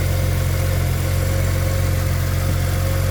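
A 2002 Porsche Boxster S engine idles just after a cold start, a steady close low rumble with a constant hum and no talking.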